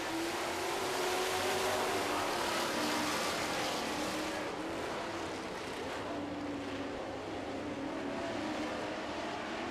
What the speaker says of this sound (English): as we get set to go Super Truck Racing